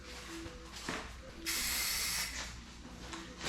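An aerosol can sprays silver paint onto a Sportster motorcycle tank in short hissing bursts, with one long loud spray in the middle between quieter pauses and faint tonal hums.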